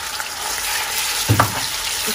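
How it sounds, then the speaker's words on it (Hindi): Chicken mince tipped into garlic oil where the garlic has started turning golden brown, giving a loud continuous sizzle that flares briefly as the meat hits the pan, no voices. "गार्लिक हल्का सा गोल्डन ब्राउन होना शुरू हुआ है तो आप इस स्टेज पर मैं डाल देती हूँ चिकन मिन्स"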